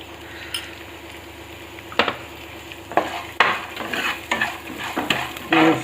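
A rice and tamarind mixture with ghee roasts in a pan with a soft, constant sizzle, and a spatula stirs and scrapes it in irregular clanks and knocks against the metal, loud and close.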